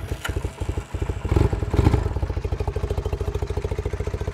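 A 1978 Honda CB400A Hondamatic motorcycle, with the exhaust baffle removed, fires up close by and settles into a fast, even putter. It brightens briefly with a couple of revs before dropping back to a throaty idle.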